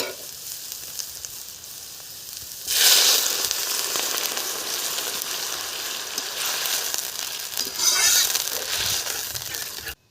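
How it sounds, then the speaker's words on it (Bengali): Water poured into hot oil with browned spices in a village-style kitchen pan, bursting into a loud, close, hissing sizzle that flares up suddenly and stays steady, with a second surge near the end. "এখন আমি জল দিয়ে দেবো।"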